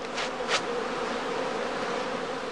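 Honeybee swarm emerging from straw skeps, a steady, dense buzzing hum close by, with a couple of brief louder whooshes near the start and no talk.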